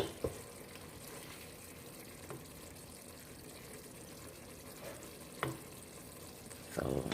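Curry chicken sauce simmering in a pot, a steady soft bubbling hiss with a few faint clinks, close and even throughout.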